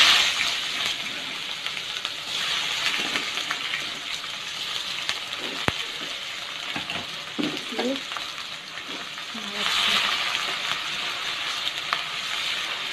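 Sliced onions go into hot oil left from frying tilapia for a curry, giving a soft, steady sizzle with occasional clinks and stirring scrapes, fairly quiet and close.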